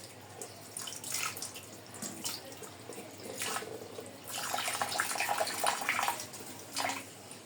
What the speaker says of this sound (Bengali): তারপর রোস্ট করার জন্য প্রথমে মাংসগুলোকে সুন্দর করে ধুয়ে নেওয়া হচ্ছে।